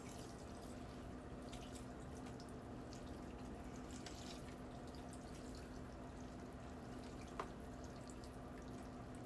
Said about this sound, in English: We're just going to start pouring it in.